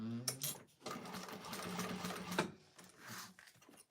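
A freshly oiled sewing machine stitches vinyl for a bowler bag, running in a steady close mechanical whir for a couple of seconds, with brief starts and stops at either end.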